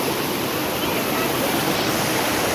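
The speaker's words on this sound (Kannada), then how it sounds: "ಮಳೆ ಸ್ಟಾರ್ಟ್ ಆಗ್ಬಿಡ್ತು, ಫುಲ್ ಮಳೆ ಜೋರು." Heavy rain coming down at Courtallam waterfalls, a loud, dense, unbroken rush of water close by with no gaps or talk.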